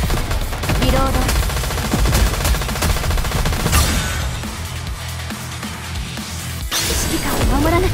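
Gunfire in NIKKE: The Goddess of Victory rattles as dense, continuous automatic bursts mixed with driving music and effects, with brief crashes throughout.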